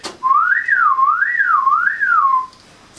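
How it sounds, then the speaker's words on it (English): Solo whistling by one person, a loud close tone sliding up and down between notes in three smooth, even waves before stopping. "So the tongue is in a different position for every note you whistle."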